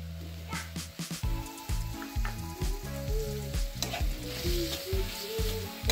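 Amul butter sizzles and fries in a pan with carrots for a kid-friendly milk carrot halwa, a steady close crackle with stirring scrapes, while some harmonic voice-like sounds run underneath.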